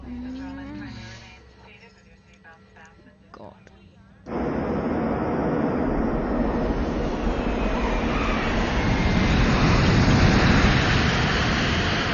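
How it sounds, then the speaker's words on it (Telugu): A voice is heard first, then a fixed-wing airliner making an emergency landing in a comedy film scene swells into a loud, continuous broadband cabin roar that holds steady and slightly builds until the end. "అందువల్ల మన ఫ్లైట్ ని గోవాలో ఎమర్జెన్సీ ల్యాండింగ్ చేస్తున్నాం."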